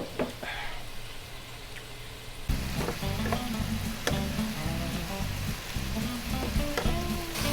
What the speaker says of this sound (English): We're going to sear them off